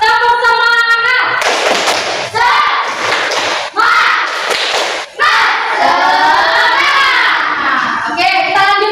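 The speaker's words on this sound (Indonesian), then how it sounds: "Kita tepuk semangat dulu yuk." Schoolchildren in an Islamic religious education classroom do a rhythmic clapping cheer, sharp unison claps punctuating loud sung chanting voices in a lively, close, energetic burst.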